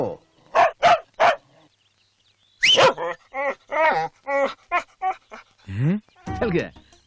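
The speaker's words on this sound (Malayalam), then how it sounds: "നായക്ക് ആളെ പരിചയമില്ലാത്തതുകൊണ്ടാണ് ഈ കുര." A dog gives three sharp, loud barks at a stranger, then stops while several people talk and a few fainter yips come in behind the voices.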